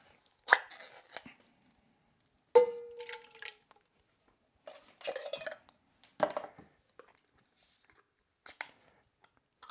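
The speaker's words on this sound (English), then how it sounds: "You just dump everything into the pan." Canned tomatoes, whole corn and black beans dumped into a pan for an outdoor gumbo, heard as a series of close splats, clanks and wet plops spread across the clip with short quiet gaps between them.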